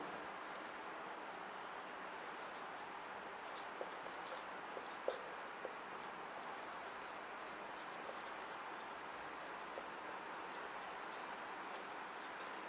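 A pen or marker scratches and rubs steadily across a board while maths is written out in a lesson, a soft continuous scraping with a few faint taps and no talk.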